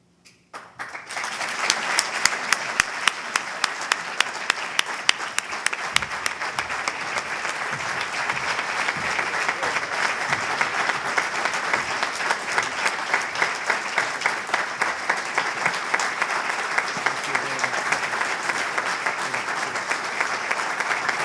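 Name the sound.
audience applause at an awards ceremony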